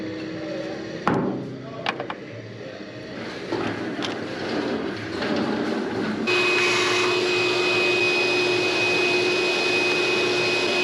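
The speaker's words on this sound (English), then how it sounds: "Vacuum's already out here." A vacuum cleaner kicks on in a garage working on a 1957 Chevy Bel Air convertible with a 283 V8 barn find, droning loud and steady after a few scattered knocks and clanks.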